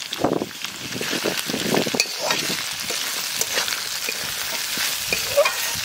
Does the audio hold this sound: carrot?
yes